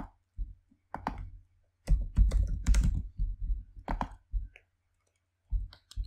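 Quick bursts of typing on a computer keyboard as an email address goes in, rapid close clicks with short pauses between runs and no talk.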